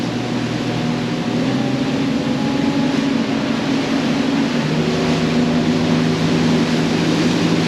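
A motorboat's engine drones steadily and loudly as the vessel gets up onto the plane, holding about three degrees nose up, a continuous broadband roar with steady tonal hum and no speech.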